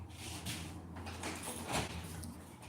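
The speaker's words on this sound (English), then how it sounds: "Help me close the door." A door slides and bumps shut in a room, with soft scraping movements and a dull thud midway, fairly quiet and close.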